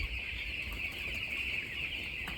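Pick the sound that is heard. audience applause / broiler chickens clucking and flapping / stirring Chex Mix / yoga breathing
broiler chickens clucking and flapping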